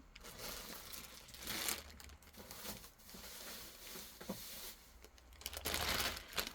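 Plastic packets of gemstone beads, such as amethyst, being crinkled and handled while unboxing jewelry-making supplies, with close, irregular rustling and crackling in bursts and no talk.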